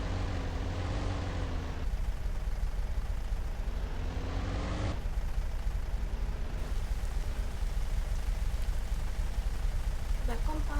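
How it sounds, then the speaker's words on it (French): Rain falling outdoors, a steady broadband hiss of drops that runs continuously, shifting in level partway through as if heard from a different spot, with no voices over it. "Bah, comme par hasard, il pleut."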